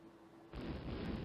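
Warship main guns firing in the naval strategy game Rule the Waves, a broad booming burst that starts abruptly about halfway through and rumbles on loudly to the end, with no talk.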